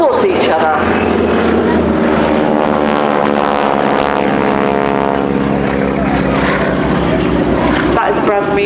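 Propeller aerobatic biplanes carrying wingwalkers dive toward the crowd at an air festival display, their engines a loud, sustained droning roar that fills the whole passage without letup.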